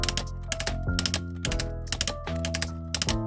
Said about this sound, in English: nice ratchets going out